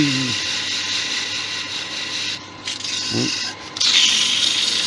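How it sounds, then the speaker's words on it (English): Sandpaper rubbing on a turned teak wood Christmas tree spinning on a lathe, a steady continuous abrasive hiss with the motor's hum beneath, with brief changes in pressure along the way. "Now I'll just sand that bit."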